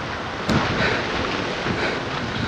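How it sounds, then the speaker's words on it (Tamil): Steady rain pours down outside an old temple, a dense even hiss throughout with a brief louder burst like a thunder crack near the start. "மழை பிடிச்சிருச்சுங்க."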